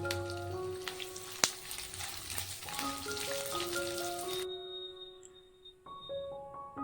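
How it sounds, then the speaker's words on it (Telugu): Onion pieces frying in oil with dried red chillies and curry leaves, a steady crackling sizzle like light rain that carries through, with a sustained background tone and a couple of sharp clinks. "ఉల్లిపాయ ముక్కలను వేసి గోల్డెన్ షేడ్ వచ్చేంత వరకు వేయించాలి"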